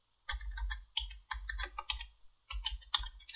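Keys tapped on a computer keyboard while entering a letter number in an office form, several quick clusters of close, crisp clicks with short pauses between them and no talking.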